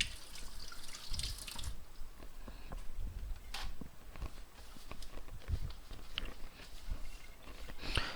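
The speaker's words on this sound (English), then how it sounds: "make sure you wash your hands rapidly" Hands are washed under a running kitchen tap. Water pours and splashes softly and steadily, with faint drips and handling sounds, quiet and with no voices.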